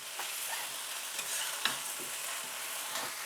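Egg being broken up and stir-fried for Singapore noodles, giving a quiet continuous sizzle with soft scraping stirs and occasional light clicks of a utensil against the pan.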